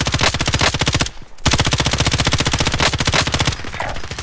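Rapid automatic gunfire from Call of Duty Warzone, loud and close, sustained bursts with a brief pause near the middle before firing resumes.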